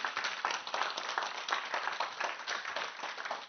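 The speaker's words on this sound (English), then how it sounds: "Let's give a big round of applause." Steady applause from an audience, many hands clapping continuously at moderate volume with no talking.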